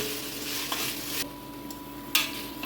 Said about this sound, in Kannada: ಈಗ ಹಾಕಿದ್ದೀನಿ, ಸ್ವಲ್ಪ ಇದನ್ನು ಕೂಡಿಸ್ಕೊತಾ ಇದ್ದೀನಿ